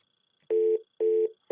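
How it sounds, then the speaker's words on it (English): Pulsing dial tone on an Avaya IP Office analog phone after pressing flash: three steady tone bursts, each about a quarter second long with short silent gaps between, clear and close with no talking. "We get a pulsing dial tone"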